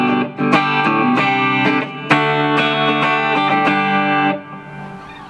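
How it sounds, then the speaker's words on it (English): Electric guitar through a Blackstar ID series amp set for an American-style tone with spring reverb: loud strummed chords and picked notes ring out in phrases, then the final chord decays with a reverb tail. "I'm going to give it a little bit of spring reverb here"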